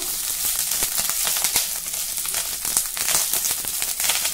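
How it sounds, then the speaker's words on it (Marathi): Curry leaves fry in oil over a low flame, giving a steady, close sizzle with fine crackling throughout and no talking. "अगदी मंद गॅसवर हा कढीपत्ता आपण परतून घेऊ"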